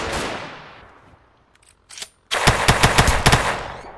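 Rapid bursts of Tec-9 machine-pistol fire in a video game, a fast string of sharp, loud cracks after a quieter lead-in with a couple of brief clicks.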